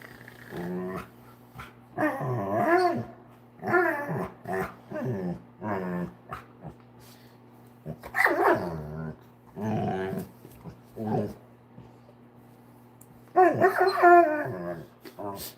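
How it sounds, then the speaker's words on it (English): A recovering dog growls and lets out odd inward, reverse-sounding barks in repeated short bursts, close by, with a person talking calmly between the noises. "It's a weird reverse bark he does."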